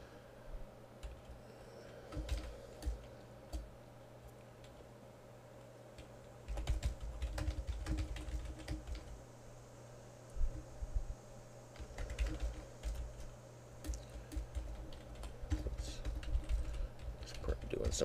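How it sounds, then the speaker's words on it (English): Steady clicking of a computer keyboard being typed on in quick bursts, close and fairly quiet over a low background hum, pausing briefly now and then. "now I'm typing in Perl"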